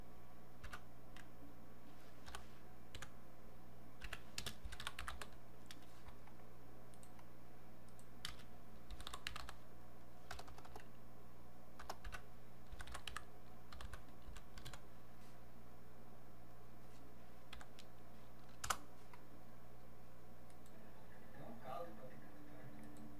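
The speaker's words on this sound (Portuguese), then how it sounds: "vamos digitar aqui o que ele está falando" Computer keyboard typing while captions are entered, steady irregular clatter of keystrokes running throughout, fairly close and moderate in level, with occasional sharper clicks and faint background voices.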